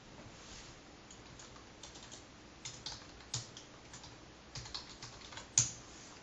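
Soft, irregular keystrokes tap on a computer keyboard while code is written, quiet and close with occasional louder clicks.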